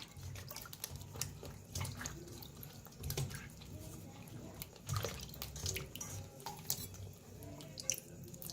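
Eggplants rinsed by hand in water, with soft splashing and dripping plus small clinks of a pot, quiet and close, a voice faintly present.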